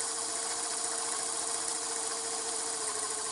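Diesel engine of an EO-4321 excavator held at raised revs to drive its hydraulic cylinders, a steady droning hum with a faint mechanical whine, constant and close, without speech.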